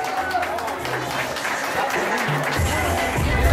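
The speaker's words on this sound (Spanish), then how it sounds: "Vamos a darles un fuerte aplauso" Applause from a crowd gathered at a market event with a federal deputy, steady clapping that swells toward the end, with a voice talking over it.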